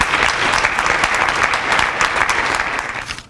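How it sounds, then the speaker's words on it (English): Loud, dense audience applause fills a room at a Prince George's County summer launch event after a speaker is introduced, steady throughout and tapering off at the end. "If we can give him another round of applause."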